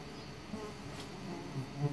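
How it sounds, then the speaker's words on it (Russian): Faint, continuous buzzing of wild forest bees close by among fireweed plants, a soft steady drone with no talking. "Лесные пчелы, ну надо же."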